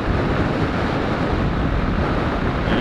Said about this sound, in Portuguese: Muito vento mesmo.